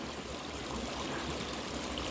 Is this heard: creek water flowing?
yes